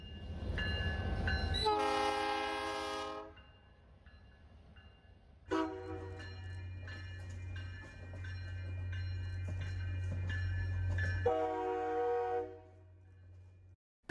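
A Housatonic Railroad train rumbles past in Connecticut with a bell clanging, as two long, loud horn blasts sound close by.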